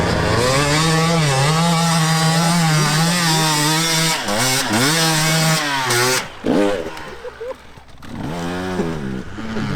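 A KTM 525 dirt bike revs hard at a motocross start, its loud high-pitched engine note rising and falling in repeated sweeps, with a second bike pulling away and fading partway through.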